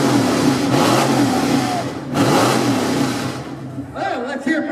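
A 1978 Chevrolet pickup engine revs at a car show exhaust contest, rising and falling in two loud surges with a crowd murmuring and people talking around it.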